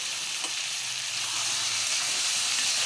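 Green tomato curry sizzles and fries steadily in a pan with turmeric and salt, a continuous close hiss and crackle with no talking.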